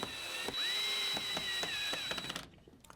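A power screwdriver whirs in short bursts while reinstalling screws on a Minn Kota PowerDrive advanced GPS controller, with a high whine and clicking ratchet taps close by, then silence.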